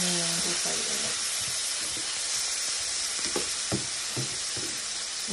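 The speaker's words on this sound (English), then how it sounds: "We're just going to allow this to cook down. I'm going to mix that honey in just like that." Honey sriracha Brussels sprouts sizzle steadily in a hot pan, a loud continuous frying hiss with scattered clinks and scrapes as honey is stirred through them, no one talking.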